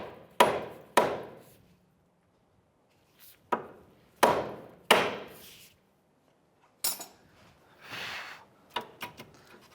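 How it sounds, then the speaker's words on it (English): A hammer taps sharply on a steel castle nut to free the tie rod end on a 2011-2016 Hyundai Elantra, about eight close, loud metallic strikes in irregular pairs and singles with quiet gaps between. "give it a couple of taps downward with a hammer"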